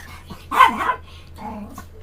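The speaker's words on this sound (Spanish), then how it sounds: "Disculpen a mis perros." Dogs bark indoors, a short burst of a few loud yaps followed by a quieter whiny bark, with no talk over them.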